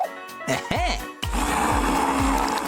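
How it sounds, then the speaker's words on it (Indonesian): Blender whirring as it blends peeled watermelon for homemade ice cream, a steady loud motor drone after a brief pause, preceded by a short burst of talk and clatter. "Kita kupas di atasnya, lalu kita blender di dalamnya"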